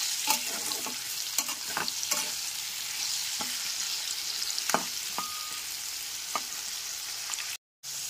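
Potatoes fry in a pan with salt and turmeric, giving a steady close sizzle throughout, broken by sharp scraping clicks of a spatula stirring the pieces at uneven intervals, with a brief dropout near the end.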